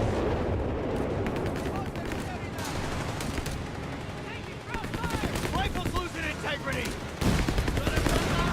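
Heavy battlefield gunfire and artillery rumble continuously in Company of Heroes 3 during a 1v1 pro league semifinal, with bursts and booms layered under excited commentary from a caster.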